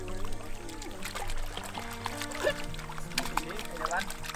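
Rice seedlings are rinsed in water at a farm in Luang Prabang, Laos, with soft pouring, trickling and sloshing going on steadily while people talk nearby.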